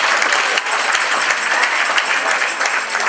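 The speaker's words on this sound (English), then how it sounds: "Give them another big round of applause" Guests at a legal aid charity fundraiser gala give a big, loud round of applause, a dense continuous roar of many clapping hands with only slight swells and no speech.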